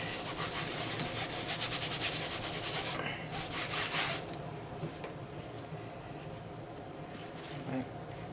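An airbrush-style paint sprayer spatters white acrylic paint as its tip clogs, giving a steady hissing, sputtering spray that runs loudly for about four seconds, then drops to a fainter continuous hiss.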